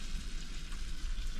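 An onion sauce for beef tinga starting to bubble in a pan, giving a soft, steady sizzling hiss with faint crackles, quiet and alone.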